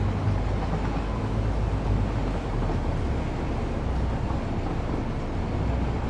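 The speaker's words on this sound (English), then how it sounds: "So the train will turn around, come back this way." A train in the video game Satisfactory rolling along and turning around, heard as a continuous low rumbling drone with steady wheel and engine noise, moderately loud and unbroken with no voices.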